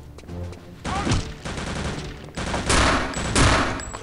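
Pistol gunfire in the video game Return to Castle Wolfenstein, a series of loud, sharp shot bursts in quick succession with short gaps between them and no talking.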